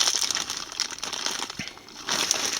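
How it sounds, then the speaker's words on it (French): Small metal PC case screws and standoffs rattle and crinkle inside a plastic pouch as someone rummages, a steady close rustle with brief louder bursts and no speech. "on cherche dans la pochette des vis qui sont fournies avec"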